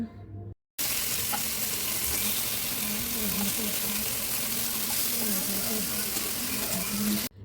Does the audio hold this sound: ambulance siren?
no